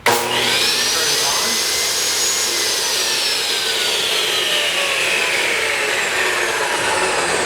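Kobalt table saw switched on and running steadily, a loud, close whining motor roar with a slight pitch drift as it spins up and holds speed, no voices.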